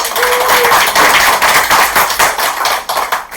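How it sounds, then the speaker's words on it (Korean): An audience at a lecture applauds again, a loud, dense burst of clapping that holds steady and then thins into scattered claps toward the end, with a brief vocal whoop early on. "다시 한번 박수."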